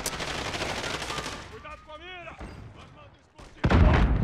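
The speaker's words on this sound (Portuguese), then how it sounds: "Tem mais gente dando tiro na gente ou o que, que foi isso?" Gunfire crackles in rapid bursts in the video game Call of Duty: Warzone, with a short lull partway through before a heavy, close burst of shots at the end.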